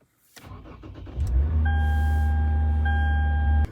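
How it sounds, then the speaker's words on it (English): A car engine cranks and catches after a short click and a few turning sounds, then settles into a steady, close idle hum with a faint electronic tone above it, with no talking. "So let me turn on the car and show you what errors pop up."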